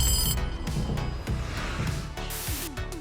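A telephone rings in a Stranger Things scene, a bright electronic bell trilling loudly at the start amid dense, rumbling dramatic score and effects.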